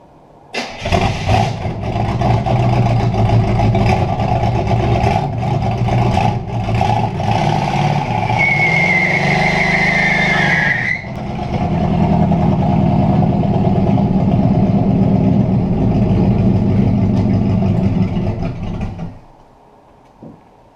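An old 1968 Buick Skylark V8, abandoned for decades, cranks and roars to life, then holds a loud, rough, sustained rev with a brief dip midway during a burnout attempt before cutting off near the end.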